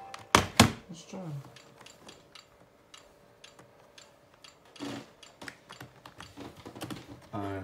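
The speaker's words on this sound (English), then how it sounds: "I'm using the keyboard." Typing on a computer keyboard from a Laser gaming bundle, a run of quick close key clicks and taps following a couple of louder knocks, with talk nearby.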